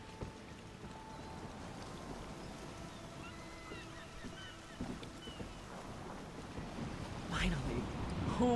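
Sailing ship setting out in the game ESO, with a soft wash of water and wind against the hull, faint creaks and clunks, and a louder gust and splash building near the end while voices speak.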